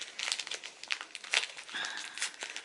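A gift package wrapped as part of a Christmas yarn parcel is torn open, with close, busy paper crinkling and brief tearing bursts in quick irregular succession.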